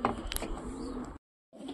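Pigeons in a breeder's loft give soft, low cooing and a few sharp chirps, close by, then a brief silence before the cooing resumes.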